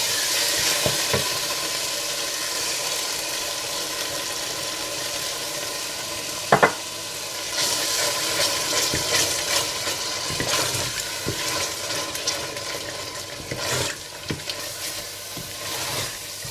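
Masala fries in a pot as yogurt is stirred in for fish biryani, a continuous close sizzle with wet bubbling and scraping spoon strokes, one sharp knock partway through, no voices.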